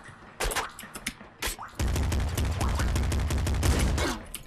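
Rapid shotgun blasts from the video game Nuclear Throne: scattered bursts at first, then a dense, sustained barrage of loud, close gunfire with booming low thuds running to the end.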